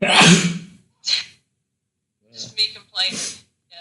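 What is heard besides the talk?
sneeze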